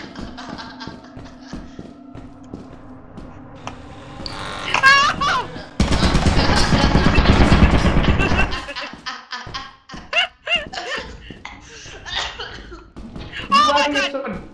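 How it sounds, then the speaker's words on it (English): Game turret firing, a dense burst of rapid automatic shots for a few seconds amid excited voices talking and laughing, with bursts of game noise before and after. "Shot by a turret"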